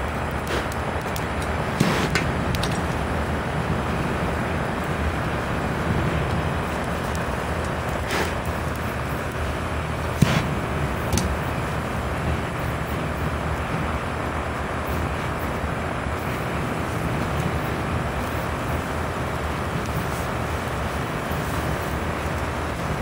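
A box fan runs close by with a steady, even whooshing drone that never changes, broken only by a couple of faint clicks.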